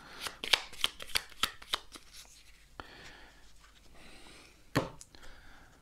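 Board game cards from a Dungeonquest draw pile being shuffled by hand, a quick run of crisp riffling snaps, a pause with light handling noise, then one more sharp riffle.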